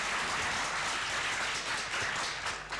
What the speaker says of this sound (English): please give a warm applause to our guest